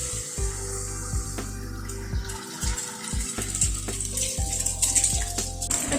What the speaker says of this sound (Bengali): বেগুনটা তুলে নেওয়ার পরে যেটুকু তেল ছিল তাতে দুটো ডিম দিয়ে দিলাম।